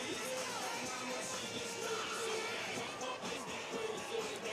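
Football crowd at a Rockvale vs Nolensville high school game in the fourth quarter, with two cheer squads and a student section cheering and jumping; a steady, dense roar of voices holds throughout.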